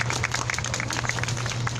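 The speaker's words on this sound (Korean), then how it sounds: "큰 박수 부탁드립니다" Crowd at a street rally against wartime sexual slavery clapping in steady applause, a dense burst of many hands heard close for a couple of seconds.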